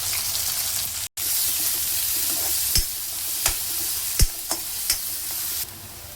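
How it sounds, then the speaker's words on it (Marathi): Chopped onions fry in hot oil in a pan with a steady close sizzle, broken by a handful of distinct knocks and scrapes as a utensil stirs them, with no talk. "मीडियम साईजचे 2 कांदे कापून घेतलेले ते टाकून घेऊया"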